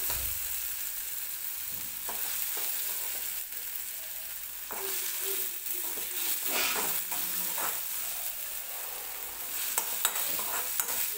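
Tomato being fried and stirred in a pan for spinach sabzi, a steady soft sizzle with occasional scraping strokes of the spoon, close and quiet, no voices.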